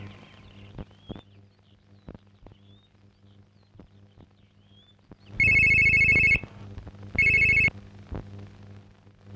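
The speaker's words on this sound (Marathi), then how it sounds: "मिनीला फोन करते।" A telephone rings during a call, sounding as two loud, electronic ring bursts about a second apart after a quiet stretch with faint soft ticks and rustles, with no speech.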